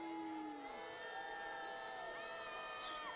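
Football crowd at a USL League Two match between Bigfoot FC and Ballard FC voicing displeasure at a referee's call, a sustained dense roar of many voices with rising and falling whistling tones, steady and fairly distant, no talk over it.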